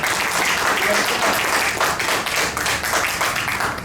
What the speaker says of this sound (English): Let's give the Ghana government a round of applause.